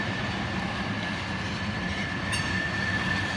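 Union Pacific freight locomotives with a KCS unit among them roll past close by, a steady loud rumble of wheels on rail with a faint high squeal running throughout.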